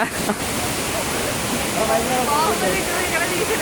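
The Sri Dhara Gangamma waterfall at Punyagiri near Vizianagaram gives a loud, steady, broadband roar of falling water, with faint voices murmuring under it.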